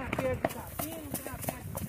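Horse hooves clip-clop in a quick, uneven rhythm of sharp knocks, close by and moderately loud, mixed with voices and background chatter.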